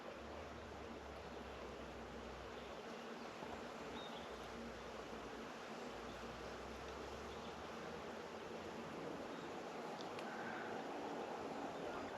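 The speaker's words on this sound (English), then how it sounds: "suddenly the buzzing got much louder and stronger" Steady, dense insect buzzing fills the air in a snowdrop forest, loud and continuous with a constant hum, growing slightly stronger toward the end, no voices.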